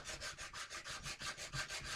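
Hand sanding of flutes into a wooden gun stock, heard as soft, steady back-and-forth rasping strokes in an even rhythm, close and fairly quiet, with no talking.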